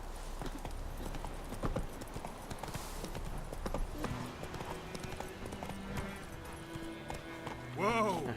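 Horse galloping in The Witcher 3, a fast rhythmic clip-clop of hooves running continuously and fairly close, with a short whinny near the end.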